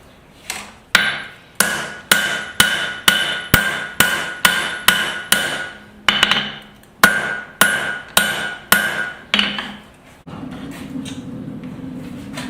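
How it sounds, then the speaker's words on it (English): Rhythmic hammer blows ring out on scrap metal being forged into a knife, a steady series of sharp, bright strikes with short pauses, then fading into a low hum at the end. "grab a scrap piece of metal and pick up the hammer"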